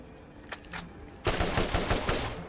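Gunfire from a gun in the video game Borderlands: a few scattered shots, then a loud rapid automatic burst lasting over a second, close and dense, with no talking during the firing.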